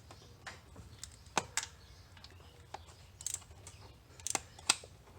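Screws being tightened on the thermostat housing of a Jeep SRT fitted with a Jet 180 thermostat, heard as quiet, close metallic clicks and ticks in scattered bursts, with no talking.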